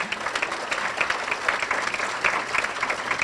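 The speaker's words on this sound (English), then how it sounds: "You can clap on that one." Audience applause at a League of Women Voters centennial birthday celebration in Manatee County, a steady broadband wash of many hands clapping with fairly even intensity throughout, moderately loud and continuous.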